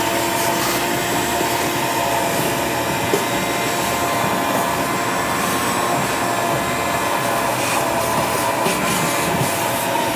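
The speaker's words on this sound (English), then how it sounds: "use a shop vac here and kind of get the big chunks." A shop vac sucks up debris from a Ridgid R4520 table saw with a loud, continuous roaring whoosh that holds steady throughout, with a few faint rattles of material.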